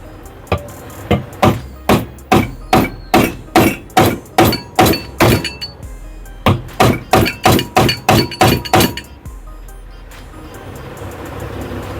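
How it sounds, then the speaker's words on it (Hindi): Ceiling fan with a jammed bearing being struck with a hammer to knock it loose: about twenty sharp metallic blows in a steady, close rhythm, briefly pausing midway, then stopping into quiet room noise. "तो मैं इसको एक बार अंदर की साइड ही ठोक के देखता हूँ, क्योंकि जो बैरिंग है इसका बिल्कुल जाम हो रहा है"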